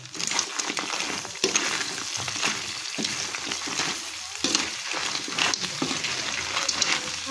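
Crab sizzling and crackling in hot cooking oil, a steady close frying hiss with scattered pops and stirring clatter throughout.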